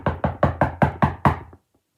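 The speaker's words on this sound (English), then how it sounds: "So they knocked on Mr. Wolf's door." Seven quick, loud knocks on a door in an even rhythm, close and sharp, followed by silence.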